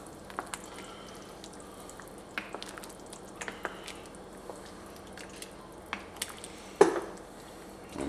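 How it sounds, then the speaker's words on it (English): Cajun chicken stew stirred in a pot with a spoon, giving scattered soft clinks and wet squishing scrapes at irregular intervals, fairly close but quiet, with a sharper knock near the end. "Now we're going to give this a quick stir."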